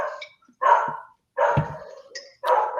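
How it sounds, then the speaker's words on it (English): Several dogs bark in short, loud bursts close by, with a few yips between them and brief quiet gaps, with no talk over them. "I'm let the dogs bark here"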